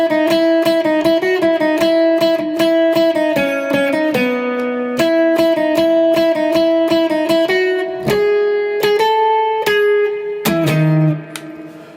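An electric guitar plays the bridge riff of a song, picked single notes and bends, clear and up close, continuing steadily without any talking.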